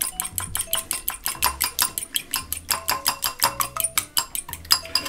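A utensil clinks rapidly and rhythmically against a bowl, beating a batter mixture for fried bream, fast steady strokes up close with no talking.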